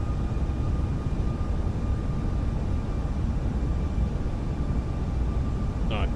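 Airplane in flight in Microsoft Flight Simulator, a steady broadband engine and wind drone held at constant loudness throughout, with a brief chirp near the end.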